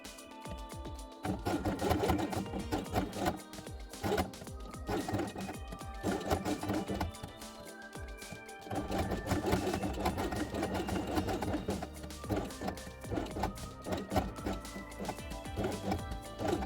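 Sewing machine stitching fabric pieces of a handmade quiet book, a fast steady mechanical chatter running in long continuous stretches with brief pauses, close and fairly quiet.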